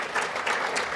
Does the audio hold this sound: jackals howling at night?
no